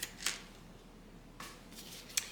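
Scissors snip fabric welting pieces for a zippered bag pocket: a few quiet, crisp separate cuts spaced out against a near-silent background.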